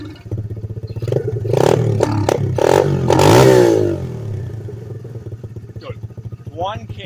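A Chinese 125cc pit bike fitted with a NIBBI Racing carburetor revs hard in several loud, close blips, then settles to a rough idle as people talk nearby.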